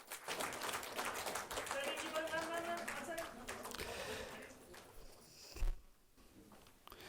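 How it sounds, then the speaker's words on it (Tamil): Audience clapping greets poets at a Tamil literary gathering, a dense patter under a speaking voice that fades out near the end with a short bump. "அனைவரும் உங்களுடைய பலத்த கரகோஷத்தோடு கவிஞர்களை வாழ்த்த வேண்டும்"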